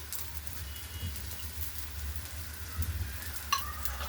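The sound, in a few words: flatbread frying in oil on griddle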